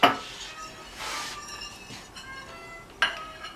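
A utensil clinks and scrapes against a bowl while a vegan corn pudding batter with egg and oat milk is stirred, a few sharp clinks at start and end with softer swishing between.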